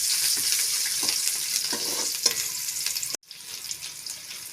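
Crushed garlic cloves, ten of them still in their skins, frying in oil with a steady crackling sizzle and occasional stirring, close and alone; the sound breaks off briefly near the end, then resumes.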